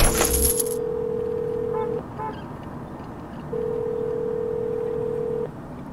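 A payphone call home in the video game Road 96: a coin drops, then a steady ringback tone sounds twice with a pause between, over low background hum.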